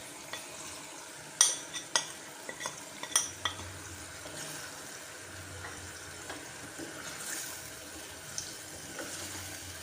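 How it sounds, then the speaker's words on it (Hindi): Red kidney beans frying with spices for surkh lobia make a soft, steady sizzle, with a cluster of stirring clicks and clinks early on before it settles into a faint hiss. "अच्छे से फ्राई करूंगी मैं।"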